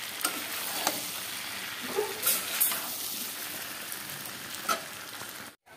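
Fish frying in curry in a pan gives a steady, loud sizzle close by, with occasional clicks and scrapes of stirring and no talking.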